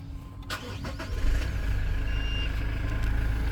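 A 2022 Toyota LandCruiser Prado GXL cranks briefly with clicks, then catches and settles into a steady idle hum, heard close with no talking.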